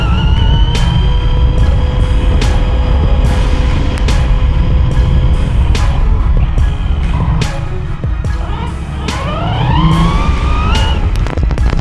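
A Team Corally Shiroi 6S short course RC truck driving and spinning its tires on a yard, loud high electric motor whine rising and falling in pitch with sharp clicks and crunches throughout.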